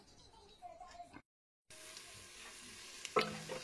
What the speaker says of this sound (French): je vais faire revenir l'oignon avec la tomate et les carottes